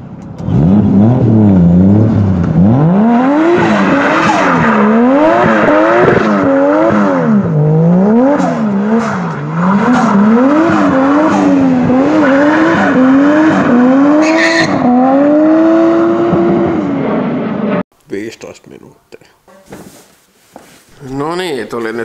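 A Toyota Chaser drives with the family aboard, its engine loud and close from inside the cabin as the revs rise and fall repeatedly through the gears, before the sound drops to quieter road noise near the end.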